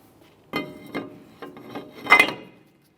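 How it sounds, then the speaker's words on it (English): A brake rotor is set onto the front wheel hub of a 2008-2017 Mitsubishi Lancer, making several close metallic scrapes and clunks as it slides into place, ending with a brighter ringing metal contact. "let's get that brake rotor in place"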